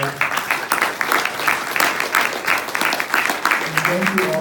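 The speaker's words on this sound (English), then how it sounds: "Can we give them a round of applause?" Audience applause fills a housing solutions forum in Sunnyvale, a steady dense clatter of many hands that carries on throughout, with a voice beginning to speak near the end.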